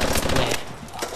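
Rapid gunfire from Call of Duty Advanced Warfare during a scoped shot, a loud dense burst of reports over the first half second, then fading to a quieter game bed.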